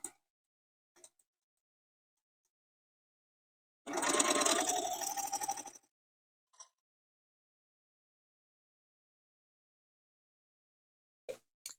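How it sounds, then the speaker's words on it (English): Sewing machine stitching quilt fabric along a marked line while paper piecing a heart trivet: a single close, steady burst of rapid stitching lasting about two seconds, with only faint handling clicks before and after. "And I'm going to sew right on that line."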